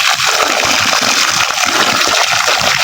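Loud, steady rush of water spraying from a garden sprinkler, a continuous hissing splash close by, with no talking.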